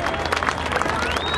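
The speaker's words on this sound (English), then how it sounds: "Again, a big round of applause for the signature maneuver." Crowd applause from spectators at the Reno Air Races in 2008, following an aerobatic signature maneuver; dense, steady clapping throughout with a high aircraft engine tone rising behind it.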